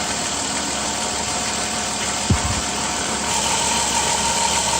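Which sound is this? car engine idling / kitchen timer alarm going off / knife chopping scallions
car engine idling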